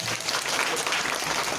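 A group of children with special needs claps for a dance performance, a brief burst of dense, lively hand-clapping filling the moment without pause.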